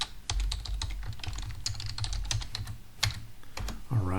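A password is typed on a computer keyboard: quick, irregular clusters of crisp key clicks close up, with a few louder strokes and no speech.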